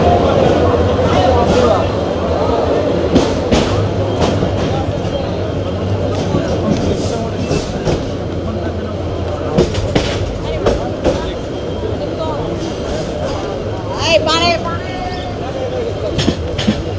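The Chattala Express rolls into Narsingdi railway station with a loud, continuous rumble of wheels on rails and rhythmic clacking as the cars pass. Several voices talk over it and some crowd babble comes through.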